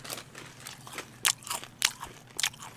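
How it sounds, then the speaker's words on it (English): A pet crunches and chews Doritos right beside the microphone, with a series of sharp, loud bites and crackles scattered through the clip over a quiet room background. "get the fuck away from the microphone with your chewing"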